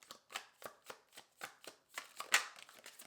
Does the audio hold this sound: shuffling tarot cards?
yes